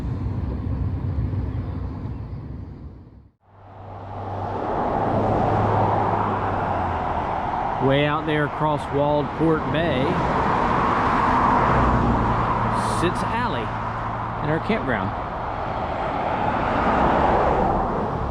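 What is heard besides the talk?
cars driving along a road across the bay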